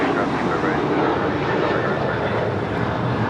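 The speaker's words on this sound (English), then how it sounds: "This is Alaska Airlines Flight 310 taking off to Washington Dulles on a 737-800." An Alaska Airlines Boeing 737-800 jet roars steadily on takeoff at LAX, a loud, dense broadband engine rush holding constant throughout the short stretch.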